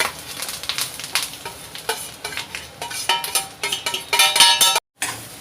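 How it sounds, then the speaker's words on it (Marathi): Fresh grated coconut stirred in a spoonful of oil in a kadai over low flame, with close, rhythmic scraping and stirring clatter and a light sizzle throughout. "त्यामध्ये मी हे ओलं खोबरं टाकून घेणार आहे।"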